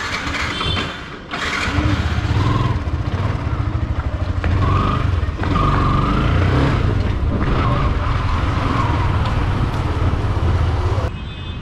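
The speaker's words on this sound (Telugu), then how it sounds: "అండ్ ట్రాఫిక్ అయితే చాలా ఉంటుంది." Busy road traffic near Nagarjuna Circle in Hyderabad, a loud, dense wash of engines and vehicle rumble heard up close from within the flow, with a brief dip near the start before the steady roar returns.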